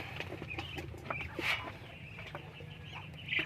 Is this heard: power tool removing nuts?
no